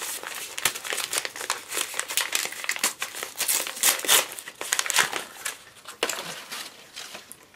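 Newspaper packing paper crumpled and crinkled while a parcel is unpacked, a loud, close, continuous rustling with sharp crackles and no speech.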